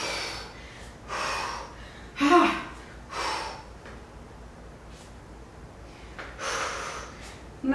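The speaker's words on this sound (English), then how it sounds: "Nice deep breathing." Deep, slow breathing during a core workout in a dumbbell HIIT session, several soft, drawn-out inhales and exhales spaced a second or so apart, close and fairly quiet over a faint background hum.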